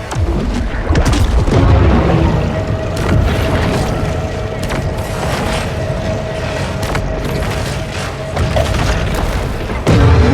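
Torpedo explosions in the Maneater shark video game come as repeated deep booms and thuds over continuous low underwater rumble and game effects, loud and close, with no talk.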